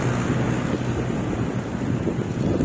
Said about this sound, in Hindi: तेज हवाएं हैं, हल्की बूंदाबांदी है